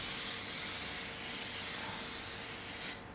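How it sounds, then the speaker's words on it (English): Spray and Cook cooking spray hissing steadily onto an oven tray for nearly three seconds, a close continuous aerosol spray with slight surges, then cutting off at the end. "So we're preparing our oven tray with spray and cook."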